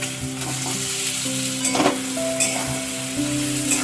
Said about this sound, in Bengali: এবার দিয়ে দেবো ভেজে রাখা ডিম।